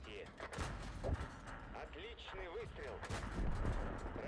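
A tank gun fires in a light-tank video game, heavy booming reports mixed with explosions, several blasts scattered through the stretch, with people talking over them.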